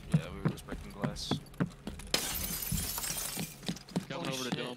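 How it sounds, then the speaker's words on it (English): Glass shatters in the Escape from Tarkov game: a bright, noisy burst of breaking panes that runs for a couple of seconds, with people chatting before and after it. "we were just breaking glass"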